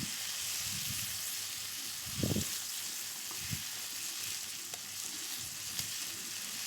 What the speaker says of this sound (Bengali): এইবার কিন্তু বন্ধুরা খুব ধৈর্য সহকারে লো টু মিডিয়াম ফ্লেমে মশলাটাকে কিন্তু ভালোভাবে কষাতে হবে।